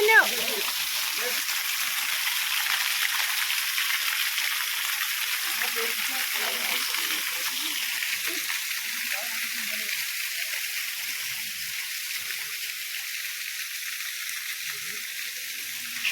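A forest waterfall in a rainforest-like setting with plant roots and water, giving a steady, even rush of falling water that holds at one level throughout with no break.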